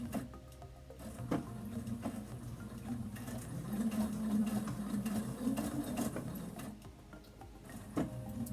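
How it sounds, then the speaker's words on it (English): A sewing machine runs a straight stitch in reverse while backstitching, giving a steady close-up mechanical whir with a brief pause partway through. "And we're gonna go backwards, we're gonna backstitch."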